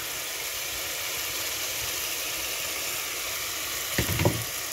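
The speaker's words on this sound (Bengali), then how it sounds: "দিয়ে এবার এই মশলাটার সাথে কষবো।" Pea paste frying with spice masala in a pan: a steady, soft sizzle throughout, with a brief louder burst of stirring or fresh sizzling near the end.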